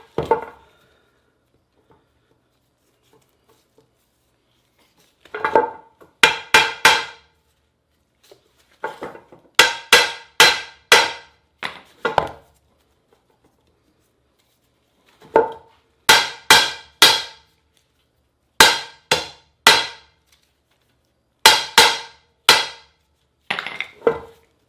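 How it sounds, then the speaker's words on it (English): Sharp metallic hammer blows on a seized driveshaft U-joint bearing cap ring out in irregular bursts of several strikes each, separated by quiet pauses, close and loud. "I just had to hit it with a hammer and there was so much tension that it released"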